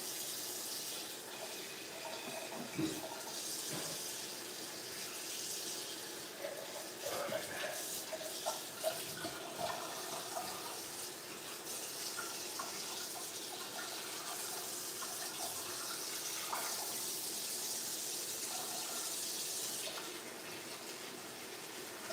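Cold tap water runs steadily into a turkey, a continuous hissing splash with occasional knocks and handling sounds as it fills.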